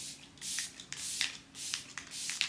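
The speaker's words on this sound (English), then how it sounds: "And I also love how it sprays out. Like it's truly a mist." Makeup setting spray misted onto a face in several short, close hissing bursts, about five quick sprays spaced irregularly, with soft rustling between them.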